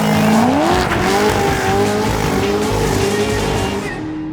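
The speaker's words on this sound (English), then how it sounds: "Makes beautiful noises, does wonderful smoky burnouts." A classic Corvette doing a smoky burnout, tires squealing loudly and continuously over a roaring engine that rises in pitch, then fades slightly at the end.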